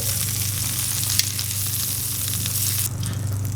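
Beef pieces sear in a hot pan for a keto beef stroganoff, giving a steady, loud, close sizzle that runs unbroken from start to finish with no talk.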